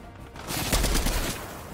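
Gunfire in Fortnite sounds as a brief, loud burst of rapid shots, densely spaced over about a second, before it fades away.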